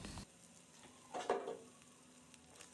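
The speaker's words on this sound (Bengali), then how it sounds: "হলুদ গুঁড়ো, ধনে গুঁড়ো, জিরে গুঁড়ো এবং লাল লঙ্কার গুঁড়ো দিয়ে মশলাটাকে বেশ ভালো মতো কষিয়ে নেব" Ground turmeric, coriander, cumin and red chilli powder sauté in oil in a pan for chicken bharta, a quiet and steady sizzle with one brief louder flare of crackling near the middle.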